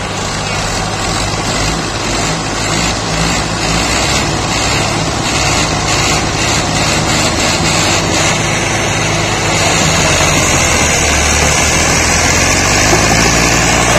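A tractor engine roars loud and steady up close as it strains to pull a loaded trolley free on a Pakistani farm, its heavy drone continuous and rising slightly toward the end.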